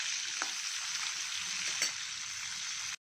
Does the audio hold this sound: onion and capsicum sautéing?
yes